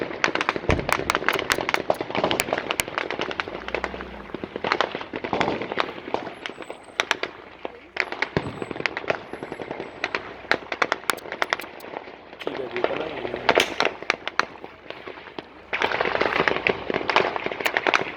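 Gunfire rings out during a shooting between Kyrgyz and Tajik soldiers in Maksat village, Leilek, with rapid, sustained cracking bursts and volleys that go on almost without pause, under excited voices talking.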